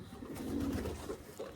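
A pair of Giribaz pigeons coos softly and close, one low rolling coo with a brief second note.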